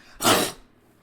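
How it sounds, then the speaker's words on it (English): A single sharp sneeze bursts out close and loud, then trails off quickly into quiet. "give me a second, I gotta sneeze"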